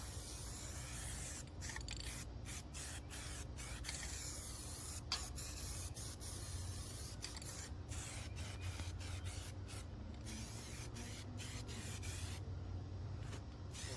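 Paint sprays onto a car chassis outdoors on a hot day as a close, continuous hiss broken by frequent short stops between passes.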